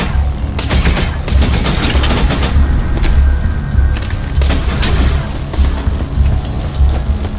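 Rapid bursts of gunfire from a gun in the Borderlands 2 shooter game ring out loud and continuous, layered with booms and mechanical game effects.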